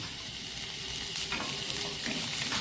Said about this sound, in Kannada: ಅಂದರೆ ಈ ಮೆಣಸೆಲ್ಲ ಉಬ್ಬಿ ಬರುವವರೆಗೆ ಚೂರು ಹುರಿದುಕೊಳ್ಳೋಣ